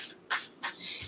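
A deck of cards is shuffled in three short, crisp riffling bursts close to the listener, with quiet pauses between them.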